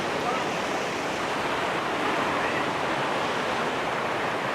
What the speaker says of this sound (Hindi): सामने देखिए अलकनंदा रिवर का फ्लो